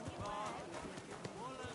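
Horse hooves clip-clop at a steady walking rhythm in the medieval game Kingdom Come: Deliverance II, mid-level and close, under busy town chatter and merchants calling out.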